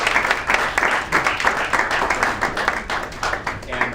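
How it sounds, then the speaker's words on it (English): Audience applause at a pitch competition during the Sun Soil Water Summit, a steady round of dense clapping that holds for the full length, moderately loud with no talking over it. "Everybody will give you an awesome round of applause."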